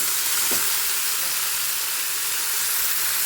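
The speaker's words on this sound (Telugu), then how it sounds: "ఇది ఆయిల్లో పచ్చివాసన పోయేదాకా ఎగలండి" Ridge gourd peels frying in hot oil for a spicy chutney, a loud, dense, continuous sizzle close by with a faint stir near the start.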